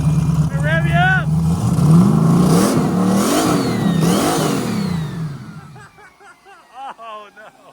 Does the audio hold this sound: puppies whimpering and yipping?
no